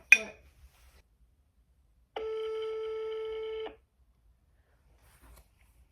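A telephone gives a single electronic ring, a steady tone lasting about a second and a half, preceded by a brief knock and then quiet room silence.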